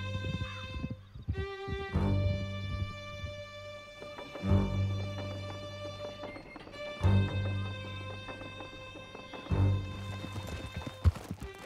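Horse hooves clip-clop rapidly in Red Dead Redemption 2 as riders gallop out of a canyon, with occasional neighs and whinnies over a droning musical score, hoofbeats steady and fairly close throughout.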